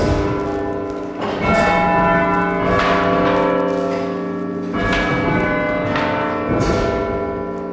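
A large tower bell at Lincoln Cathedral rings out in loud, sustained chimes, with four or five resonant strikes spaced about one and a half to two seconds apart, each ringing tone overlapping the lingering hum of the last.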